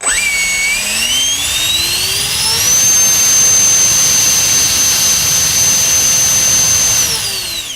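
A GoolRC 2968 3400kv motor spins a 64mm electric ducted fan, winding up to a loud, steady, high-pitched whine, holding it for several seconds, then starting to spool down.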